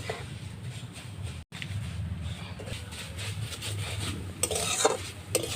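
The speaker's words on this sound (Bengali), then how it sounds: "তেলের মধ্যে সিমইগুলো দেওয়া মাত্র এর কালারটা চেঞ্জ হতে শুরু করেছে" Vermicelli fries in hot oil in a pan, a continuous soft sizzle with scraping stirring strokes and occasional light metal clinks, close by and moderately quiet.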